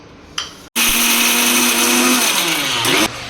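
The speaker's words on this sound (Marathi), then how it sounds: "वाटण्यासाठी लसूण, आलं, खोबरं, कोथिंबीर आणि जिरे ह्याची आता आपण पेस्ट करून घेऊया।" A kitchen mixer grinder whirs loudly and steadily for about two seconds as it blends garlic, ginger, coconut, coriander and cumin into a paste for cluster bean masala, with a short blip before it starts and a falling pitch as it stops.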